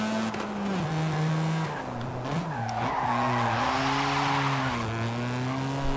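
Tires skid and squeal steadily as a car spins out in Forza Horizon 5, with a wavering engine drone underneath, loud and continuous for several seconds.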